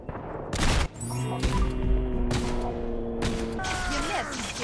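Gunfire in the Fallout video game while fighting a warlord, with sharp, loud shots and bursts spread through the stretch over ringing game effects.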